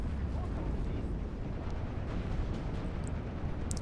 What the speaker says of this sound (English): Another aircraft coming in. Typhoon. AA guns opening up.